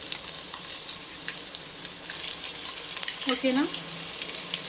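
Ginger paste, two spoonfuls, frying in a pan on low heat for chicken pulao, a steady soft sizzle throughout with faint stirring clinks and a brief spoken word near the end.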